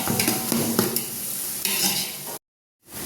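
Onions for biryani are stirred and sautéed in a pan, giving a loud close sizzle with busy spatula scraping that cuts off abruptly into brief silence before resuming.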